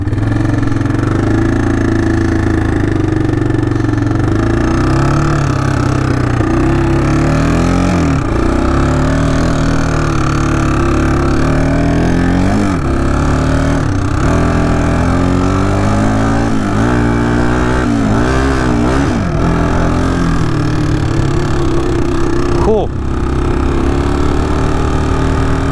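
A Kawasaki Bayou 220 ATV engine runs loud and close on a first ride, droning steadily with repeated rises and falls in pitch as the throttle revs, and no voices over it.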